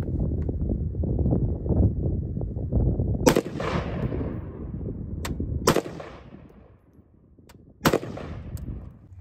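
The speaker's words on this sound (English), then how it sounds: "let's fire the first three shots on camera to confirm zero" Rifle fitted with a CVLIFE JackalHowl red dot fired outdoors, three sharp loud cracks spaced a couple of seconds apart, each trailing off in a short echo over a background of rumbling wind.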